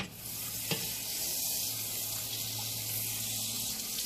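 Half a stick of butter, about four tablespoons, melting in a hot pot as the base for a beef pot roast, giving a soft, steady sizzle with a faint scrape near the start.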